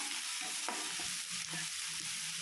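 Ground green chili and ginger being stirred and sautéed in a pan, a broad hissing sizzle with a few soft spoon scrapes and knocks, close and continuous.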